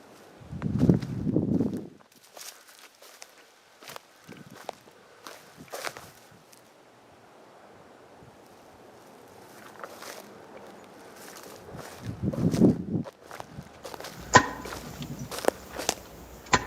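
Footsteps on a forest floor, a few soft crunching steps near the start and again near the end, separated by long quiet stretches with faint rustling.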